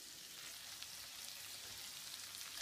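Chicken liver with onions frying in a pan, giving a steady, quiet sizzle that stays even throughout with no talk.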